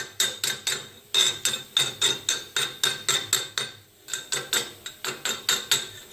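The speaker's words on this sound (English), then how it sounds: "So to get the slag off, just take my chipping hammer here." A chipping hammer taps slag off a weld, about twenty sharp metallic clinks in a quick, regular series, close and clear, with a short pause in the middle.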